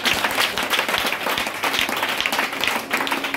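A church congregation applauds during worship, giving dense, continuous clapping from many hands that stays loud and even for the whole stretch.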